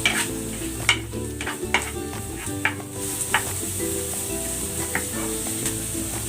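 Chorizo and carrots sizzle and crackle in a hot pan for fried rice, loud and close, with regular scraping stirs of a utensil against the pan throughout.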